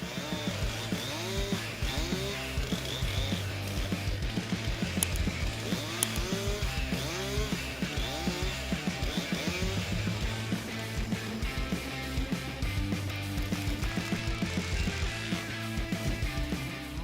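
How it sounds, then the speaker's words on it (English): A Husqvarna 592 XPG chainsaw cuts through wood, its engine droning steadily with rising and falling revs as the chain bites in, loud and close for the full length with no voices. "The Husqvarna 592 XPG is a real beast in the world of wood carving."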